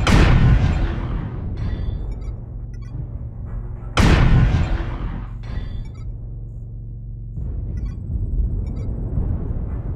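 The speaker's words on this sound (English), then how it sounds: "Airstrike ongoing." Airstrike explosions in MechWarrior Online, with a Mauler MAL-MX90 mech in combat: two loud booming blasts a few seconds apart, each followed by a long rumbling decay and crackle, with a third heavy roll of rumble near the end.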